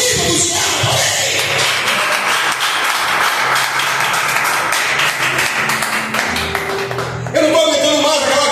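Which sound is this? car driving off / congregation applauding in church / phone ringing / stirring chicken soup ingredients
congregation applauding in church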